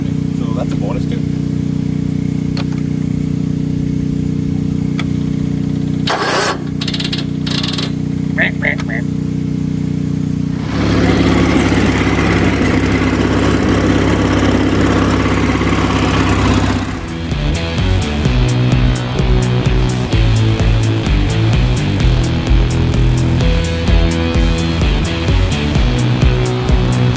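A 43-year-old yard tractor engine runs with a rough, chugging drone that changes character partway through and grows busier and more pulsing, while someone talks over it.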